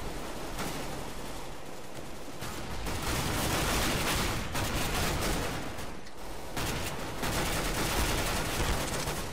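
Gunfire from a Counter-Strike: Global Offensive match, dense bursts of rapid shots filling the clip with loud, sustained noisy crackle that swells and eases in waves, with no talk over it.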